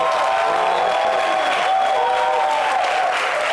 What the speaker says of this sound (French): J'aimerais qu'on l'applaudisse.